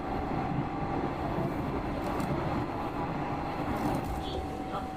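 Steady rumble inside a train riding toward Yanagawa, Japan, with continuous low rolling noise and a faint high whine, moderately quiet and unbroken.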